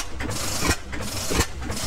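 A Joseph Reid Type A gas engine runs close by in a steady low chug, with rhythmic mechanical puffs roughly every two-thirds of a second over a continuous rattling drone.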